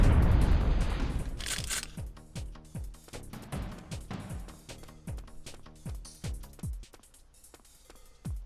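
A grenade goes off in Syphon Filter with a heavy opening blast and roar, followed by a long series of booming thuds that repeat at a steady pace and slowly fade.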